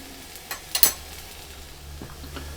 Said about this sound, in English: Just going to mix it up a little bit, make sure everything's submerged.